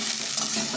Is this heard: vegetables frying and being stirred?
yes